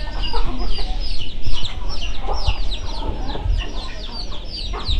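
Ducks feed at a farm pond, giving repeated short quacks and clucking calls at close range over a constant rumbling background.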